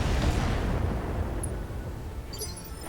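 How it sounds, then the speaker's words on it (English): A BattleTech mech fires all of its weapons at once, a loud roaring barrage of blasts and booms that starts strong and fades into a rumbling decay with a few bright metallic pings near the end. "Firing all weapons."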